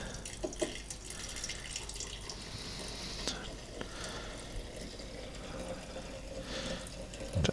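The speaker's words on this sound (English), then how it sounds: "add some water" Tap water running steadily into a jar of soil for a clay test, a quiet trickling and splashing stream with faint drips, close by and with no voices.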